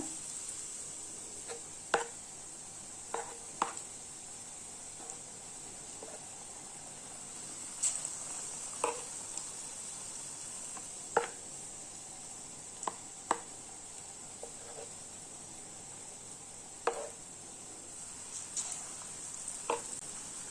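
Batter-coated boiled eggs frying in hot oil for egg bonda give a faint, steady sizzle, broken by scattered sharp clicks and taps of a utensil against the pan.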